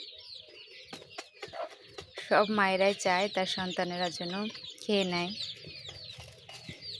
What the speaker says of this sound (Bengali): কিটকিট করে ডাক দিচ্ছে, আর ওরা এসে খুব সুন্দর খাবারের মধ্যে উঠে বসে